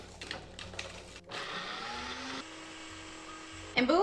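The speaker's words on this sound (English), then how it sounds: "we're going to use our Foodie Ninja blender to blend our chiles" A Ninja Foodie blender runs with a steady whirring motor hum, blending chiles for a salsa. Brief handling knocks come first, then a continuous buzzing blend cuts off with a clatter at the end.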